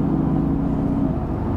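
A Renntech-tuned Mercedes-AMG GT S rumbles while cruising, a loud, steady low engine drone with a smooth mid-range whir, heard from inside the car with no talk.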